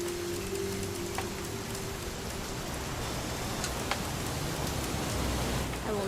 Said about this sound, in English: It's gonna rain the whole weekend,